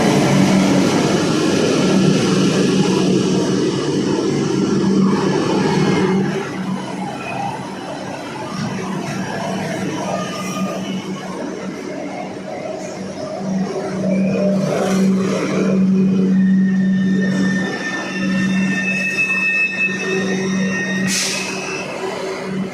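A metro train runs for a long stretch, a loud continuous rumble and roar with a steady low hum, shifting in intensity and topped by brief high whines and squeals near the end.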